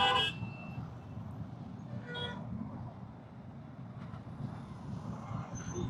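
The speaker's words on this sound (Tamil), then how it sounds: "ஆஹா நல்லா அடிக்கிறாங்க ஹார்ன்" Car horns honk in city traffic, heard from a moving motorcycle with its windshield closed: a short blare at the start and another around two seconds in, over a steady low road and wind rumble.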